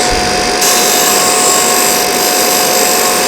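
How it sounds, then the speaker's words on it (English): A steady, close power sander whine with a hissing high edge runs without pause on a wooden sign, louder after the first half second. "just sanding up to those washer marks."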